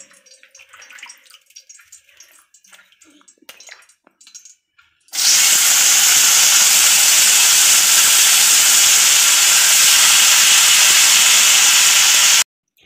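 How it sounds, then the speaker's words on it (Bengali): Vegetables for chow mein hit a hot pan and burst into a loud, steady sizzle that runs for several seconds and then cuts off abruptly, after a quiet stretch of faint kitchen rustling. "এবার আমি চাউমিনগুলো ভাজবো"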